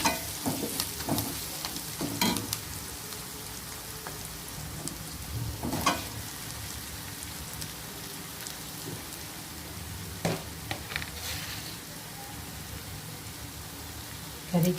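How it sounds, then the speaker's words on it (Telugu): Gongura sorrel crab curry with turmeric and curry leaves fries in a pan with a steady, close sizzle and occasional stirring scrapes, faint and continuous throughout. "కొద్దిగా పసుపు, కరివేపాకు, కొద్దిగా కరివేపాకు ఉంది."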